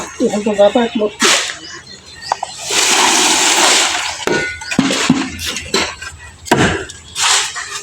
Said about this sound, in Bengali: নেন আরেক বালতি ঢালেন